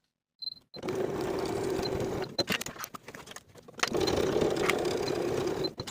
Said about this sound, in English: you can sew them in place on the inside with a 1/4 inch seam allowance